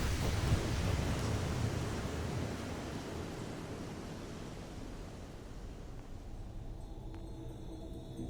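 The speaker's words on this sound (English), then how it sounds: "It's raining a lot outside." Heavy rain falls outside in a continuous broadband roar that slowly softens over several seconds, with no voices.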